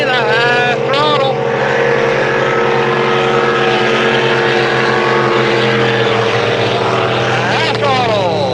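Racing speedboats roar past at a memorial boat race in Shelburne, their loud engines droning and whining as pitch shifts with each pass, while an announcer's voice talks over the noise.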